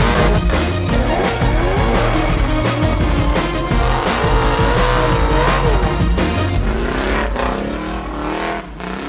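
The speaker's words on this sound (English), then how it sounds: "He is a Toyota Sora with a V8, just so that Danny can compete" A V8-powered Toyota Soarer race car roars loudly and continuously with tire squeal and skidding, its engine note shifting as it drives, before the sound thins out near the end.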